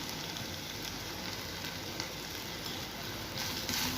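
Sliced raw plantain fries in a pan with a dense, steady sizzle and crackle that runs unbroken and grows slightly livelier toward the end.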